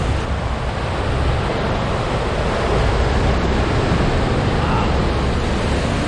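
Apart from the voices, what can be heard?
water rushing out of dam turbines, Susquehanna River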